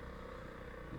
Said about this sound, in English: They're on bigger bikes, BMWs.